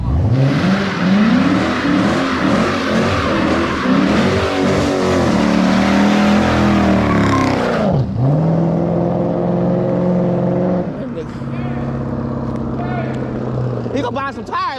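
A straight-piped Dodge Charger R/T revs hard with traction control off, its loud, rising and falling exhaust roar lighting up the tires, then settling into a lower idle rumble as voices talk nearby.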